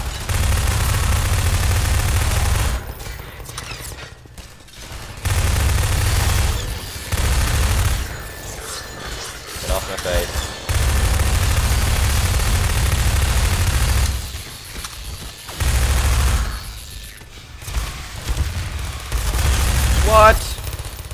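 Gunfire from a weapon in Half-Life 2, loud sustained bursts of rapid shots separated by short pauses, with a voice talking over some gaps.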